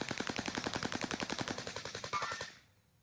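Rapid automatic gunfire from the video game Call of Duty Warzone on Rebirth Island, a sustained burst of evenly spaced shots for about two and a half seconds, then a quick cut to near silence.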